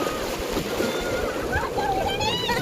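Heavy water gushes and roars steadily at Dhari Khodiyar, loud and close. Voices and people talking can be heard over the rushing flow.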